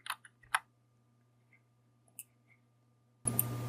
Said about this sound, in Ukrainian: натискаємо на клавіатурі клавішу Delete